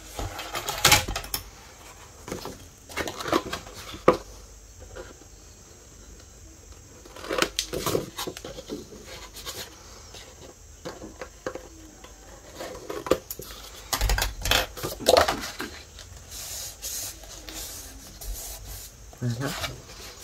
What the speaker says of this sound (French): Bon, je plie, je fais mes plis.